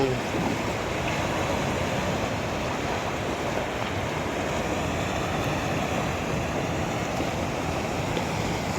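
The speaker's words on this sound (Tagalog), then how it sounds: "Laki ng alon." Ocean surf at a beach resort in Naic, Cavite: a steady, loud wash of breaking waves and rushing water with wind buffeting the microphone, continuous throughout with no clear talk.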